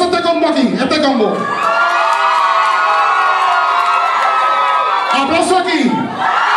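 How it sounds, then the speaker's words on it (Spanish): Loud cheering and shouting from a Halloween party crowd greeting a costumed pair, with high whoops and screams held throughout and bursts of excited voices near the start and end. "Ok, aplauso a este combo aquí, este combo."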